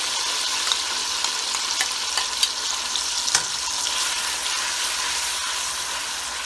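Ground onion paste mixed with yogurt fries in a pan for beef paya, with a loud, continuous bright sizzle and hiss. Faint clicks of stirring sit beneath it, and no voices are heard.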